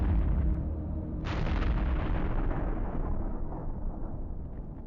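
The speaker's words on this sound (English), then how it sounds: "A kamikaze drone hits one of these systems." A kamikaze drone strike on a thermobaric rocket system brings a heavy explosion, a deep booming blast with a sharp burst about a second in, then a rumbling roar that slowly fades.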